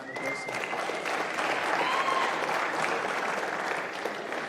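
A large crowd applauds steadily at a squash team league match in a stadium, dense clapping holding evenly throughout with a few faint voices and whistles mixed in.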